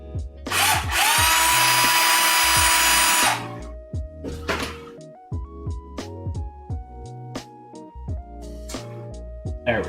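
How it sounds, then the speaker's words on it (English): A power drill whirs at high speed for a few seconds as it runs through bolt holes on a 3D printer enclosure build, then falls silent, followed by scattered clunks and knocks nearby. "I'm going to run a drill through these holes so that the bolts spin easier"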